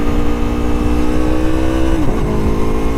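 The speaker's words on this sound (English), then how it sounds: "There's a clutchless upshift, better than me." An Aprilia Tuono motorcycle engine revs loudly and steadily up close during a ride, then its pitch drops sharply as a clutchless upshift is made before it carries on pulling under wind noise.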